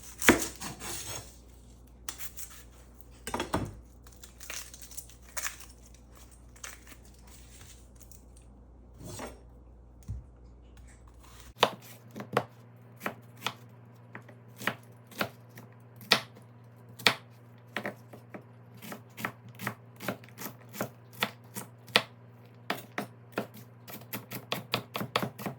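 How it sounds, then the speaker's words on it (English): An onion is chopped with a knife on a board for potato salad, a long run of sharp, steady taps that quicken in the second half, close and clear with no talking. "I'm going to chop an onion."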